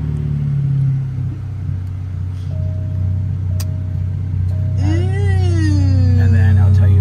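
An Alfa Romeo Giulia with a race mode install starts back up, its engine rumbling close and steady beneath a rising whine, with no speech over it.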